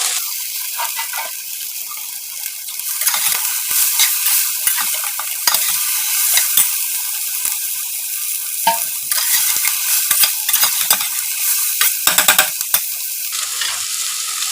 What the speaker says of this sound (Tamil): பெரிய வெங்காயம் இது மாதிரி நல்லா கட் பண்ணி வச்சுருக்கேன், அதை போட்டுக்கலாம்.